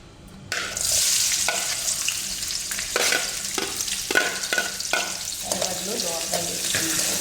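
Mustard seeds, cumin and onion fry in hot oil in a pan, a steady sizzle that starts abruptly. Several rhythmic stirring scrapes rise above it at close range. No one speaks.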